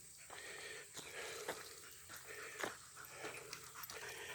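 A dog pants and drinks water while getting a bath, with rapid, rhythmic, wheezy breaths close up and small wet laps and gasps between them.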